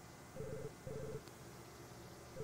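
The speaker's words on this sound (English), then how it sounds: "Where is that phone coming from?" A telephone rings somewhere nearby, two short, electronic trilling bursts about half a second apart, faint and slightly distant under low room noise, with a third starting at the end.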